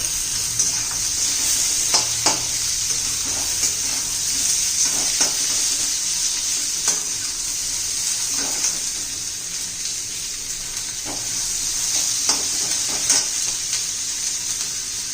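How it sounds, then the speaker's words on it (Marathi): Onions sizzle steadily in a hot oil pan for a spicy Maharashtrian dry chicken dish, a constant broadband frying hiss with frequent scraping stirs and light clicks of a spoon against the pan, close and loud with no talking. "आपल्याला कांदा भाजायचा आहे"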